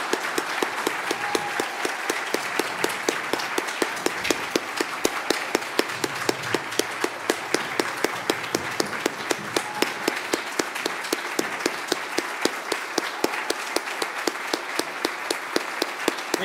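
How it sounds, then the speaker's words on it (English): A standing conference audience gives sustained applause for Ukraine at a European tech community event, a dense, even wash of many hands clapping steadily for over fifteen seconds without pause. "let's have a round of applause for Ukraine"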